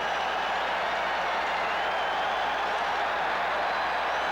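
Dense, steady roar of a large stadium crowd at a Detroit Lions football game, a continuous loud wash of cheering and noise with no breaks.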